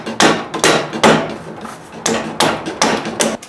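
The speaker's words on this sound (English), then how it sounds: "you want to take your hammer and just hammer it down." Repeated hammer blows land on a dust collector duct fitting, knocking it down to seal. About ten crisp metallic strikes follow one another in an uneven rhythm, near and loud, with no one speaking.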